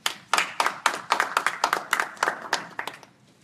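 A short burst of hand clapping from a small audience at a Nepali literary society's Devkota anniversary and general meeting, roughly a dozen distinct claps in quick uneven rhythm, fading out after about three seconds.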